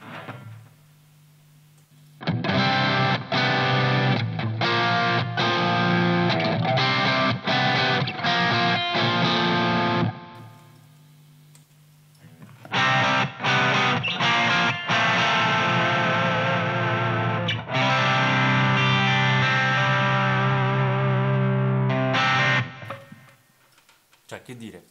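Distorted electric guitar played through a Revv D20 amplifier with a changed cabinet, in two long strummed and picked passages separated by brief pauses, loud and close.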